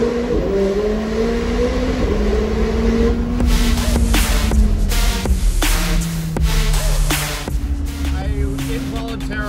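A McLaren 765LT sports car driving through a tunnel, a loud droning engine with shifting pitch and reverberant wind roar, rising into sharper bursts midway as it accelerates, with a voice briefly audible.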